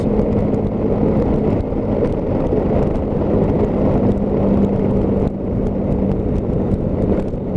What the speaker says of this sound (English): going over the manhole cover that's slightly sunken